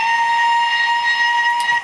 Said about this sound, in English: Let's try whistle 2 bursts.